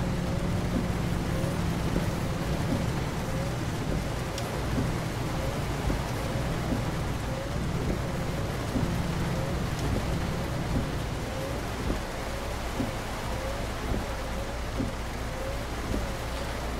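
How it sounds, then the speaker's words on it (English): Steady, even rainfall in Euro Truck Simulator 2 hisses throughout with no letup, a soft continuous wash of drops and no voices. "It's raining."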